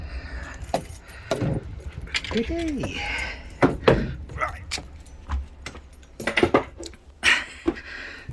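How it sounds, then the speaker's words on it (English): A ring of keys jangles up close while a lock is being removed outdoors, in several short rattling bursts, with a voice speaking between them. "Pop all my keys out of the way."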